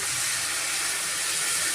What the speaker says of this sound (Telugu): ఇప్పుడు కొద్దిగా వాటర్ అయితే పోసుకుంటున్నాను